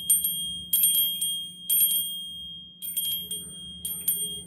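An antique collectible bell is rung repeatedly, giving bright metallic rings in several spaced bursts over a low steady hum, fairly close and without talk.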